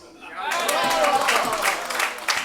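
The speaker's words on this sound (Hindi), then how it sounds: "तालियां कम बजाइए, इतनी बड़ी बात नहीं" Audience applause at a Hindi poetry gathering, a dense burst of clapping that starts suddenly and holds steady and loud for a couple of seconds, with speech over it.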